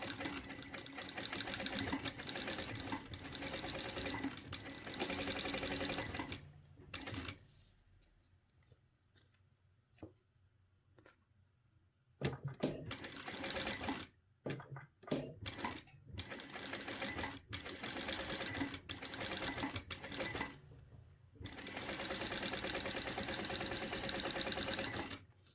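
A sewing machine stitches a zipper onto a cushion, running in steady rapid bursts with a long quiet pause and short stops and starts in between, close and clear.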